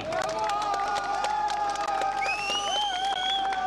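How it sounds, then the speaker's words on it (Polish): Audience at a 1996 autumn brass-orchestra festival in Brodnica cheers and applauds, with steady clapping, shouts and whistles forming a dense, continuous crowd roar with whistle-like tones rising above it. "Ogromne brawa, proszę Państwa."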